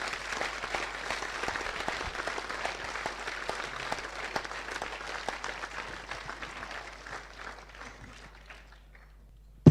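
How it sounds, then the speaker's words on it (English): A live audience at an evening event in a function suite in Dunston gives a sustained round of applause, dense clapping that holds steady and then gradually fades out. "I think that's worth a round of applause,"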